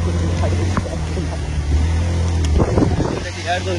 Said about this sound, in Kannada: ಬೈಕ್ ಬರ್ತಾ ಇದೆ